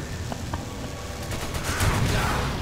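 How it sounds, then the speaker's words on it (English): Gunfire sounds in the video game Resident Evil 5 as a short burst of rapid shots that builds in loudness toward the end, over steady game background noise. "Yeah, shoot it!"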